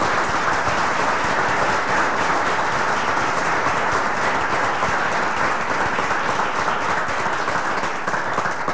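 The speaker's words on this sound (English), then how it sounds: "May I have a round of applause for all of the people who put the time in." Steady applause from an audience at a local candidates forum keeps going for nearly nine seconds at an even, dense level, with no talking.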